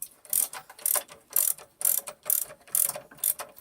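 A hand ratchet clicks in about eight quick bursts, tightening a Nyloc nut on MG F suspension during a coil conversion kit install. The crisp metallic clicking sits close and alone, with no talk.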